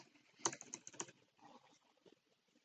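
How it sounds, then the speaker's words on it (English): A quick burst of keystrokes on a computer keyboard, several sharp close clicks in a short run that then trail off into lighter taps. "I'm going to type"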